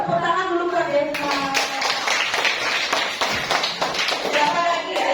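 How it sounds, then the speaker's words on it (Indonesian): Third-grade class clapping together for a classmate in a school lesson, a burst of brisk rhythmic hand claps from many children nearby, preceded and partly overlapped by talking. "Coba tepuk tangan dulu Kak Deva"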